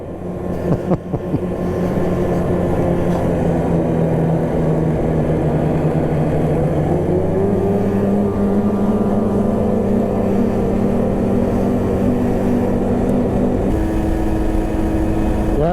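A snowmobile engine drones steadily and loudly while riding near Mont-Tremblant, holding a constant pitch that rises slightly partway through, close and continuous with no voices.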